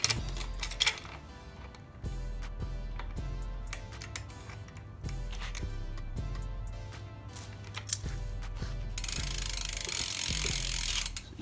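Ratchet wrench tightening the sprocket bolt on a BMX bike, with a steady run of clicking pawl strokes in short repeated bursts, close and clear with no talking.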